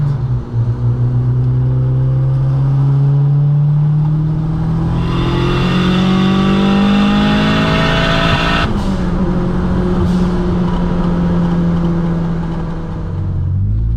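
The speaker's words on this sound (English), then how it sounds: "this thing has a solid gearbox mount and it's giving a young rattle vibration" Revving engine in a Mk2 car with a solid gearbox mount, rising and falling through the gears, with a buzzy rattle and vibration heard from inside the cabin.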